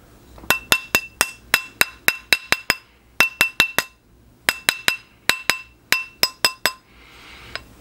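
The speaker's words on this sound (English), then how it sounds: "I'm gonna take my rawhide mallet," A rawhide mallet strikes a metal ring on a steel ring mandrel, crisp, ringing clinks in quick bursts of several blows with short pauses between, close and clear with no talking.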